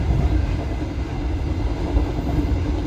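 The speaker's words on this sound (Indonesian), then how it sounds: "Kecepatan kereta Motis saat ini berjalan di angka 85, 88, nggak sampai 90 ya" Motis freight train running at about 85–90 km/h, a steady loud low rumble of wheels and rail with continuous rolling noise throughout, no voices.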